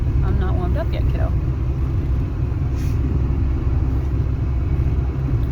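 Steady low rumble of a 2000 Ford Explorer's engine and road noise from inside the cabin on a test drive, continuous and loud throughout, with brief voice-like sounds early on.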